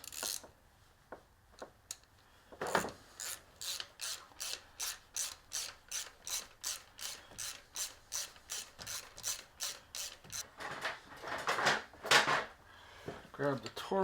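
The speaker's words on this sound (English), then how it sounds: "Grab the torque wrench, set for 13 foot-pounds, and that one's torqued." A torque wrench ratchets as it tightens a spark plug on a Jeep Cherokee 3.2, giving a long run of crisp, evenly spaced clicks close by, with brief speech at the start.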